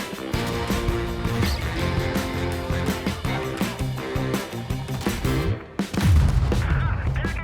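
Tank cannon shots crack out during a tank battle video game, loud and dense, with bursts of gunfire-like booms over a busy layered game soundtrack and a heavier blast near the end.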